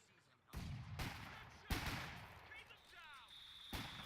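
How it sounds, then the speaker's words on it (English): German mortar rounds land on a World War II battlefield in the Battle for Caen strategy game, with several sharp, loud blasts spaced out. Each impact rolls off into a rumbling tail. "German mortar out on the field from Dasumo"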